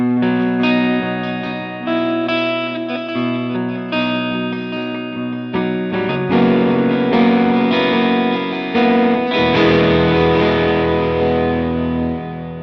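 Electric guitar playing a rhythm part on the neck pickup through a distorted tone with delay, chords ringing with echoing repeats, getting denser and louder toward the end, no talking.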